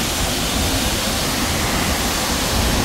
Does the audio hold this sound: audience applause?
no